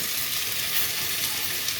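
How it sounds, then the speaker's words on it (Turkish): Potatoes and flour sauté in a soup pot, giving a steady, close, even sizzle and hiss throughout, with no voices. "Unumu da patatesler, patateslerle beraber birazcık daha kavuracağım"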